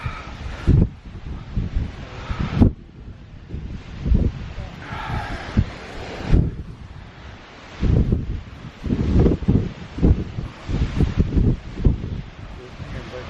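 Gusty wind buffets the microphone outdoors on the Appalachian Trail near Horns Pond and East Flagstaff, with rustling rumbles rising and falling close and loud while someone talks.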